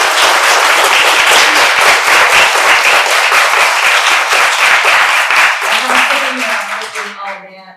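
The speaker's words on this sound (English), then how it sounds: "Could we give a round of applause for all of" A crowd applauds loudly with dense, sustained clapping that tapers off near the end as a voice begins to speak.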